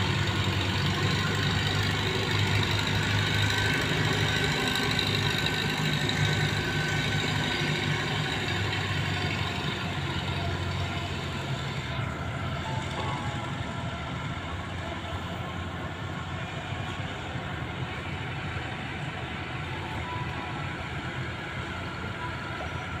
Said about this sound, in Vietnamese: nước lớn mấy chiếc ghe chạy vô quá nhiều luôn các bạn